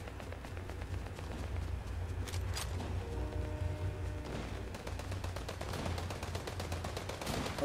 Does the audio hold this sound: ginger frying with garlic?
no